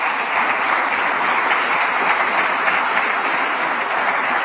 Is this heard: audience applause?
yes